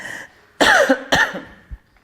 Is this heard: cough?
yes